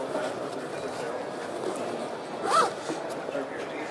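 Zipper pulled on one of the pockets of an Earthwell hip bag, a quick rasping zip near the middle, heard under steady talk in a noisy trade-fair hall.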